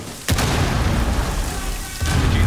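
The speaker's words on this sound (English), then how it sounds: "I'm gonna throw a fucking grenade." Grenade explosion in the video game Rainbow Six Siege, on the Bank map: a sharp, loud boom with a heavy low rumble that sustains, followed by a second booming blast near the end.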